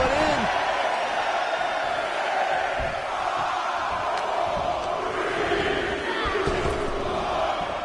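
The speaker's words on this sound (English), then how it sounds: "Listen to this crowd count this one in." A large WWE 2K23 video game crowd roars and chants in a steady, loud wash of voices, with rising shouts and a rhythmic collective count building through the whole stretch.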